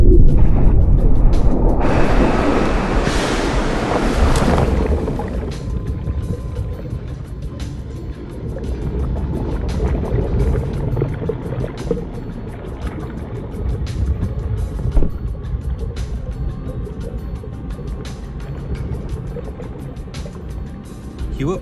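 A helicopter ditching simulator for emergency water-landing training hits the water with a loud rushing splash, then a long stretch of churning, gurgling water and rumble as it sinks.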